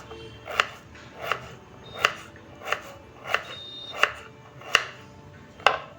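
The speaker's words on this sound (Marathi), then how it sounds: "या प्रकारे मी काप करणार आहे सगळे." A knife slices potatoes on a board in a home kitchen, eight crisp, evenly spaced chops close up and fairly quiet, with no talk.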